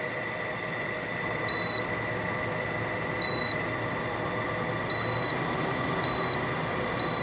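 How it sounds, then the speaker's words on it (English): Short electronic beeps chirp at intervals from the control panel of a 2009 Frigidaire 12,000 BTU air conditioner over a constant mechanical hum, a few single and double tones spaced a second or two apart. "It does beep, which is annoying."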